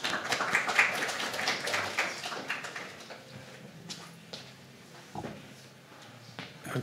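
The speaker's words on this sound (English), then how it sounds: "So please invite him up with a round of applause." A small audience at a community group's annual general meeting gives a modest round of applause, uneven clapping from a handful of people that tapers off, with a few knocks and shuffles near the end.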